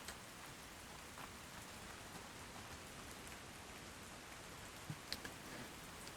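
Steady rain hisses across the island world of Ark Survival Ascended, a dense, even patter with no voices and a few sharper drops landing near the end.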